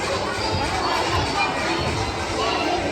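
A big indoor crowd at a cheer competition roars and shouts continuously, children's voices and cheering blending into a loud, dense wash of noise.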